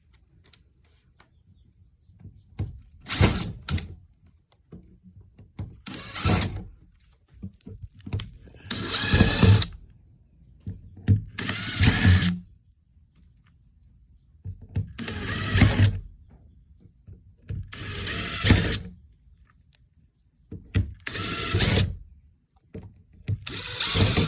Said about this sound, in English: we've got all of our pilot holes drilled.